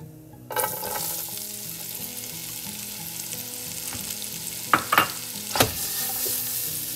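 Onions hiss and crackle loudly in hot oil with asafoetida and turmeric, a dense, continuous sizzle broken by a few clanks of a utensil stirring the pan.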